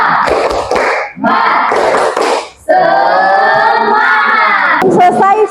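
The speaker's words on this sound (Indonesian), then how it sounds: "Tepuk semangat." A classroom group performs a rhythmic tepuk semangat clapping chant, loud bursts of shouting and clapping in short phrases, then a sustained sung-shouted line from many voices, close and energetic.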